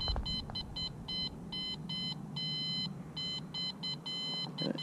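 A metal detector sounds a series of quick, high electronic beeps in uneven bursts, some short and some held longer, over a low background hum.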